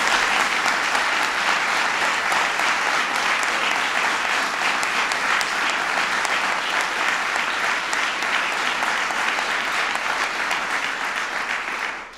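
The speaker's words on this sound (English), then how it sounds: "everybody give Bob a big round of applause" Steady, loud applause from an audience at a presidential personnel announcement, sustained evenly for about twelve seconds before cutting off.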